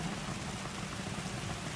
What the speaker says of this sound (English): This rain is really coming down now.